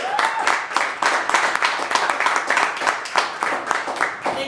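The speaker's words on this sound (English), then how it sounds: "Thank you for clapping" At a New York City comedy open mic, the audience keeps up steady, dense clapping for several seconds. It sounds fairly loud and close, with a few voices mixed in.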